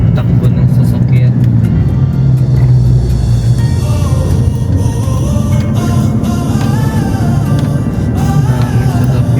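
A manual car engine drones steadily inside the cabin while driving through heavy road traffic, a loud continuous low rumble with occasional shifts in engine pitch.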